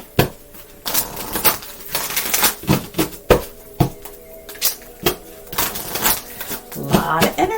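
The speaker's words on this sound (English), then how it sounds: "Okay, I'll shuffle up." Tarot cards being shuffled by hand during a Virgo reading, a run of crisp, sharp riffling snaps and soft slaps in irregular bursts, close and fairly loud with no talking.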